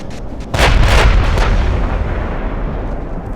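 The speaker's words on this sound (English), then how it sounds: "Here we go, guys, another pounding from our guns." Naval guns of a warship in the game Ultimate Admiral: Dreadnoughts firing a salvo, a few sharp booming blasts in quick succession followed by a long rumbling roll that slowly fades, loud and close.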